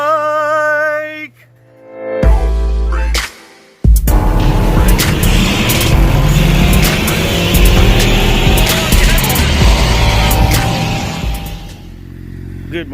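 A 2020 Yamaha MT-07 motorcycle arrives, its engine rumbling loud and close for about nine seconds after a brief tonal intro and a couple of sharp knocks.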